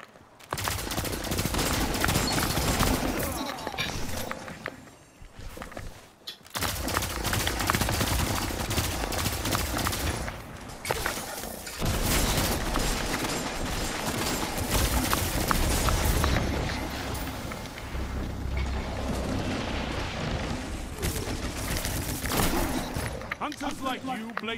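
Pulse rifle fire in the Destiny 2 Crucible, rapid bursts over a constant loud combat mix. A voice talks over the shooting, which drops out briefly a few times.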